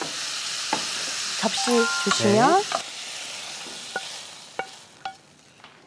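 Burdock japchae stir-fried in an oiled pan gives a soft sizzle with a few scraping stirs and clicks, while someone speaks over the cooking.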